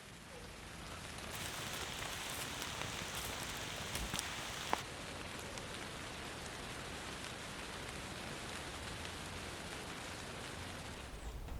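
Steady rain falls outside a camper van during a wild camping trip in trees above a North Sea beach, a soft continuous hiss of drops on the roof with no talking.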